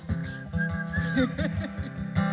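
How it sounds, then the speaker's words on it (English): A person whistles a short melody, clear, wavering notes over a steady rhythmic musical backing. "I can't whistle anymore."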